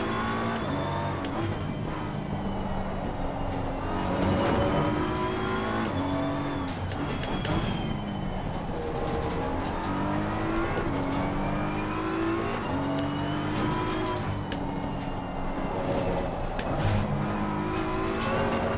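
Race car engines howl around Snetterton in Assetto Corsa Competizione, rising and falling through repeated upshifts and downshifts, with other cars droning close by and brief tire squeal, loud and continuous throughout.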